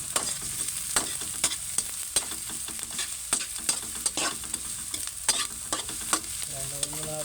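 Squid and garlic for adobong pusit with tomato fry in a pan, a constant soft sizzle broken by regular scraping strokes of a spatula stirring, close and moderately quiet with no talk.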